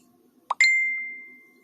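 A mobile phone sounds a notification: a soft pop followed by a single bright ding that rings out and slowly fades over about a second in an otherwise quiet room.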